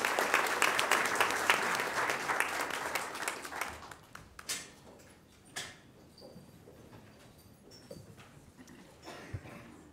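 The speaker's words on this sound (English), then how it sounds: "Round of applause for the Southeast JROTC." Audience applause at a Wichita Public Schools Board of Education meeting honoring a JROTC group: loud, dense clapping for about four seconds that thins into scattered claps and quiet room noise.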